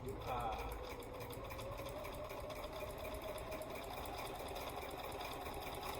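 A sewing machine fitted with a walking foot stitches quilt binding in a steady, faint, continuous hum with a light rhythmic whir throughout.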